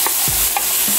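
Tomato sauce being stirred into a cooking mixture for Puerto Rican pastelón, with a few soft scraping strokes of a spoon through the pan over a faint sizzle.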